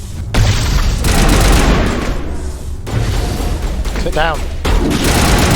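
A grenade detonates amid gunfire in the video game Mass Effect, heavy booming blasts and rattling shots in loud repeated bursts, with a short spoken line and a brief voice mixed into the combat noise.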